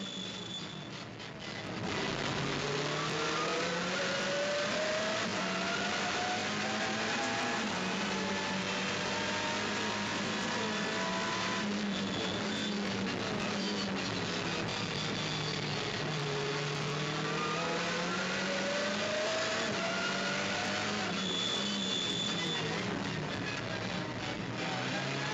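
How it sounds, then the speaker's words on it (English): Onboard a Honda TCR race car at Vallelunga, the engine screams loud and close, pitch sweeping up through the gears and dropping on downshifts again and again over a constant roaring wind. "Let's have a listen on board Esteban Gurrieri in the Honda as he chases down teammate"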